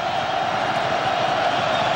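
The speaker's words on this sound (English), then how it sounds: "Now the crowd getting into it for the Georgia Tech defense." Football stadium crowd roaring for the Georgia Tech defense at a 2006 Miami vs Georgia Tech game, a steady, dense wall of cheering and noise that holds loud and even throughout.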